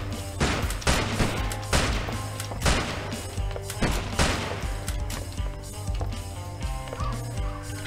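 Rapid game gunfire from 12 is Better Than 6 pops in repeated bursts over a steady droning music bed, the shots punchy and close at roughly regular intervals.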